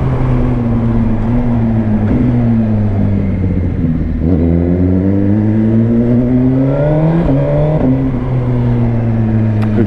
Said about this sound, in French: Oh, le petit retour à l'échappement. Magnifique.